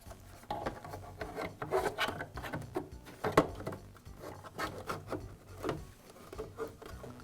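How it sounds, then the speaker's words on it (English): A plastic dust shroud is pushed back onto the blower housing of a DeWALT planer, giving close, irregular rubbing and scraping with a few sharper clicks and knocks over several seconds. "Now I can reinstall the dust shroud."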